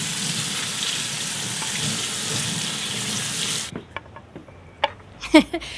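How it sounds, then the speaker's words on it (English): Water runs steadily from a kitchen tap for a few seconds while a chopping board is washed, then stops, followed by scattered knocks and clatters of items being handled near a sink. "I gotta go inside and wash all this chopping board and everything."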